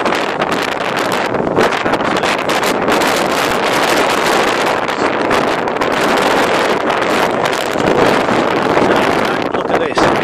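Gusty wind buffets an outdoor microphone during a windy coin-shooting session, producing a constant loud rumbling roar with brief surges throughout.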